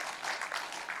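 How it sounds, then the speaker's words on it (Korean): Church congregation at a Sunday service clapping briefly to welcome a newly registered member, a short, fairly faint burst of applause. "우리 박수하겠습니다."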